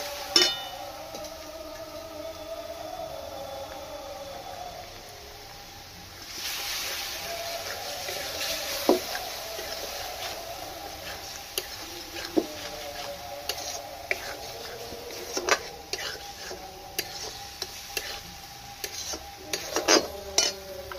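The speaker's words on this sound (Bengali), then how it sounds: "একটু জল দিয়ে দিচ্ছি। জল দিয়ে মশলাটা কষতে থাকবো।" Spice paste fries in a pan with a little added water while a spoon stirs and taps against the metal, making soft, irregular clinks and scrapes over a low, quiet sizzle.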